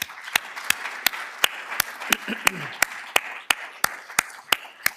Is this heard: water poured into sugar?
no